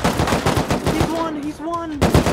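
AK assault rifle gunfire in the video game Rust, loud rapid automatic bursts at close range, pausing briefly while a voice speaks before firing resumes.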